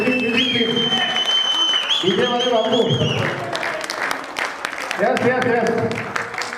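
Seminar audience clapping welcomes a guest, mixed under loud playing pop music with a singing voice, the applause a continuous crackle beneath the song.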